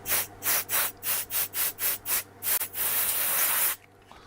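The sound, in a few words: spray onto Sony ICF-SW7600GR radio part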